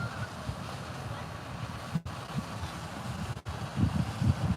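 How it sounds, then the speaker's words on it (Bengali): Speedboat on the Atlantic Ocean off Wantagh Park, New York: a steady close rush of hull and engine noise with wind buffeting the microphone, two brief dropouts breaking the drone. "বিকেলবেলা ইচ্ছে হলো স্পিড বোট নিয়ে সমুদ্রে ঘুরে বেড়ালো"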